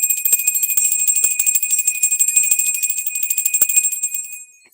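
A small bell rings rapidly and continuously, a bright high tinkling that stays close and loud, then fades out at the end.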